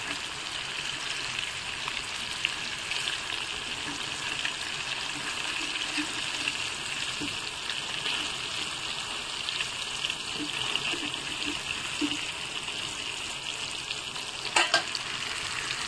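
Fish and vegetables fry in a pan with a steady, close sizzle and occasional stirring scrapes, running continuously with no talking.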